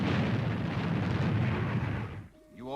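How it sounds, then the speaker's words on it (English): Retro rockets fire in a loud, sustained roaring blast that fills the first two seconds, then drops away abruptly, leaving a brief quiet tail with a faint electronic warble. "Fire retros, Robert."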